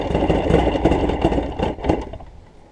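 A Mercury 50 hp outboard motor running just after a first start with the choke being sorted out, a loud close rough mid-pitched engine chugging that eases off toward the end.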